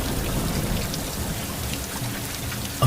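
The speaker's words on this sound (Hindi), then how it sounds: "मूसलाधार बारिश शुरू हो गई" Heavy, steady rain pours down in a dense, unbroken roar, with low rumbling thunder mixed into the downpour on a stormy night, no voices present.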